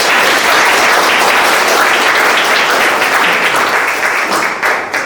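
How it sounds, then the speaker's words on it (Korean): Sustained, loud applause from a large seminar audience welcoming an inheritance and gift-tax expert onto the stage at a book lecture in COEX, Seoul, dense and steady throughout before tapering slightly at the end. "박수로 맞아주시죠"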